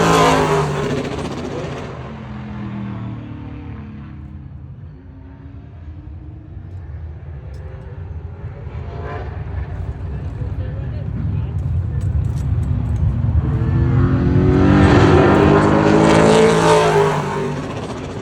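A Pro Late Model race car makes a qualifying lap at Crisp Motorsports Park speedway, its engine swelling loud, fading into the distance, then roaring back close, with a commentator talking over it throughout.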